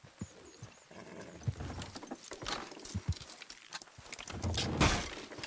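Horses pulling a load in Red Dead Redemption 2 make a soft, irregular clip-clop of hooves over low rumbling movement noise, fairly quiet with no talking.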